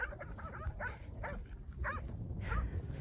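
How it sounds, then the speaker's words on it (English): A few short, high-pitched puppy barks and yips in quick irregular bursts, fairly faint against a low background hum. "that's what the puppies are barking at."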